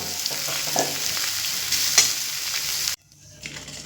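Prawns rubbed with salt and turmeric frying in hot oil left over from frying pumpkin and potato, a steady loud sizzle with stirring scrapes that cuts off abruptly near the end, leaving quieter residual crackle.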